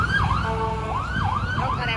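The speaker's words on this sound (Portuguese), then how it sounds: "Não, cara, é a polícia, achei que era ambulância." A police car siren wails nearby with a loud, continuous rising-and-falling sweep over low road rumble.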